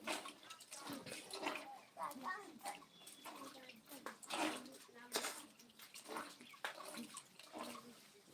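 Fermented cassava fufu mash being washed and squeezed by hand in a tub of water, giving close, irregular sloshing and splashing bursts that continue throughout while people talk.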